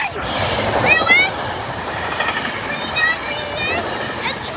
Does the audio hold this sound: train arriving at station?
yes